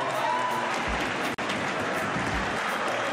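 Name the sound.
crowd applauding at a Canarian wrestling ring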